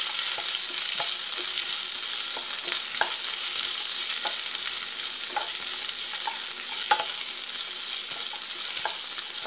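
Paneer masala gravy sizzles steadily in a small amount of oil, a soft continuous frying hiss broken by faint clicks and taps of stirring, close and without talk.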